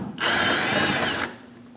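A power tool whirs in one short, steady burst of about a second as it drives out a 10mm bolt at the top of a Dodge Durango front bumper, then winds down into quiet.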